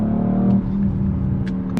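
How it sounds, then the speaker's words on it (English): Sport-mode exhaust of a 2019 Audi RS5 Sportback, a steady, loud, throaty drone from the engine with a brief higher burble near the end, heard alone with no talk. "I'm in sport, I've got all this exhaust noise at the moment"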